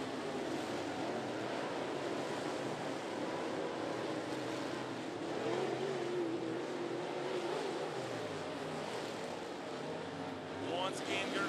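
Race cars lapping a speedway oval, engines droning at a distance with pitch sweeps as cars pass, under a commentator's voice.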